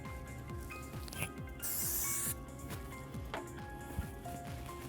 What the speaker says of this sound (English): I'm going to take a spray wax and just lightly spray throughout